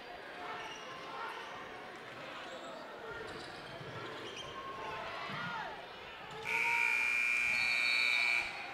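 A loud, sustained electronic buzzer sounds for about two seconds to end a quarter in a high school basketball game in a gym, following crowd noise and ball bounces under commentary.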